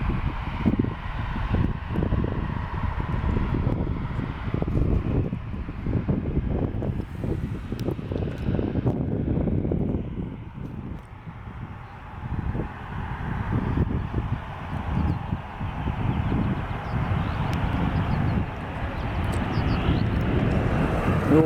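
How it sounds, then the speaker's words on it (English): A Boeing 787 airliner lands at Portland, its engines heard as a steady, low jet roar with wind buffeting, fairly loud and continuous throughout, with no talking. "According to flight radar, the Boeing 787 is officially here, so watch that land."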